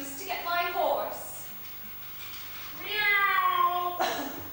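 A person in a stage pantomime imitates a cat, giving two drawn-out, whiny meows separated by a short pause, loud and close against a room background.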